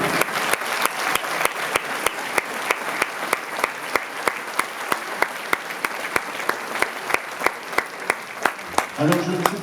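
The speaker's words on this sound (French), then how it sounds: "j'aimerais encore quelques applaudissements de rue." An audience applauds after an outdoor street show, with sustained clapping under a distinct rhythmic beat of sharp periodic claps. A voice briefly speaks at the very end.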